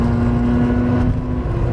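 A Mazda RX-7 FC rotary engine revs loudly and close up as the car downshifts, a sustained buzzing engine tone that holds steady then drops as the revs fall, with no talk.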